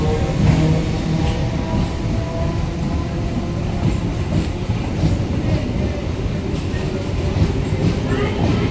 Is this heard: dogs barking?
no